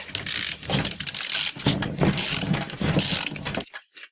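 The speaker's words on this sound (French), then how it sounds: "Avec une clé de 17, faut pas oublier de bloquer la rotation de la tige ici" A 17 mm wrench works loose the brake caliper bolts on a Renault 4L, giving close, loud metallic ratcheting and grinding in uneven bursts that stop abruptly near the end.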